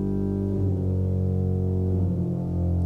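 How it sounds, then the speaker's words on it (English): A pipe organ plays a low sustained chord with the ophicleide reed stop adding a buzzing growl under other stops, a loud, dense, steady tone. "hear the growl of the ophicleide"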